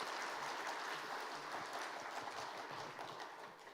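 A church congregation at a Sunday afternoon service gives a faint, steady round of applause, an even wash of clapping from across the room.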